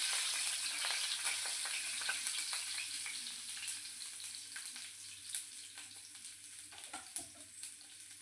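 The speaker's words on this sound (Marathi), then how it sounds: "त्यानंतर आपण यात टाकणार लसूण लसणाला थोडंसं दोन मिनिट होऊ देऊया" Garlic frying in a pan for cabbage bhaji, giving a steady bright sizzle that slowly fades, with scattered small clicks and scrapes throughout.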